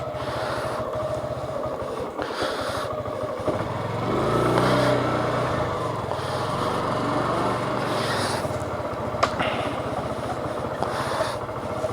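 A Suzuki Gixxer motorcycle pulls away and rides off, its engine rumbling with rasping buzz and wind noise at the onboard microphone. A swell of revving comes mid-way, then a steady cruising drone with occasional bumps.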